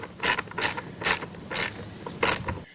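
Five rhythmic ratchet clicks as a motorcycle battery terminal is tightened during a LiFePO4 lithium battery install, close and fairly loud, with no talking.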